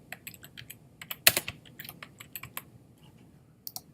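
Quiet keystrokes on a computer keyboard while entering a short title, a loose run of light taps with one louder cluster and brief pauses.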